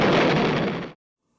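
A frenetic explosion closes the film Frankenstein Meets the Space Monster, a loud, dense roaring blast that holds for nearly a second and then cuts off abruptly into silence.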